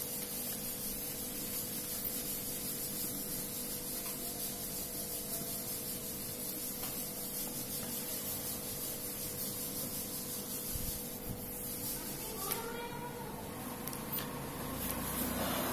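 A board being rubbed clean during a lecture, a steady, soft, continuous scrubbing hiss that runs the whole time with a few light knocks near the end.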